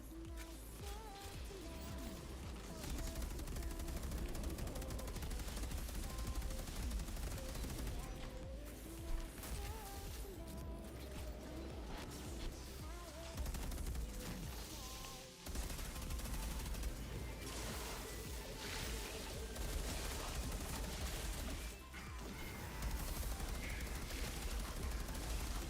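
Video game gunfire crackles almost nonstop as a busy, fairly faint background fusillade of rapid shots, with occasional brief drops, under intermittent voices.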